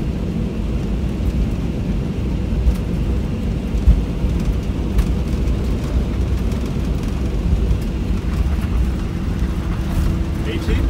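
Lufthansa Cargo MD-11F jet engines at takeoff thrust, a steady loud broadband roar with low rumble filling the whole stretch, heard from inside the aircraft without pause.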